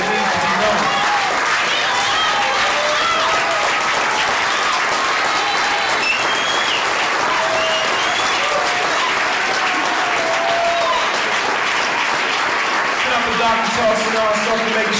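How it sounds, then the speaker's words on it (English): Sustained audience applause and clapping at a live spoken-word event honoring young men, steady and loud throughout with crowd noise and some cheering voices mixed in. "So they need to be applauded and honored."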